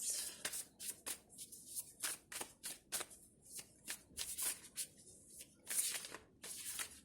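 Tarot cards being shuffled in a quick series of crisp riffles and flicks, close and fairly quiet, with no talking.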